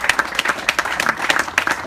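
An audience breaks into brisk applause at a speech, a short burst of dense, close clapping with no talking over it.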